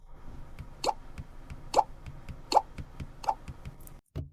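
A Xiaomi Leica Leitzphone's do-not-disturb turn-off sound, a short, bubbly plop-like chime, repeats four times at an even, unhurried pace, fairly clear against a faint background.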